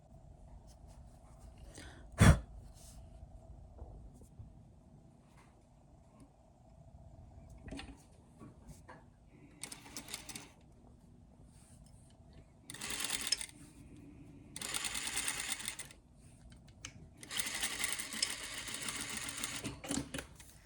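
Sewing machine stitching the leg band of a bodysuit, several close, rattling bursts of stitching that grow longer toward the end, separated by quiet pauses.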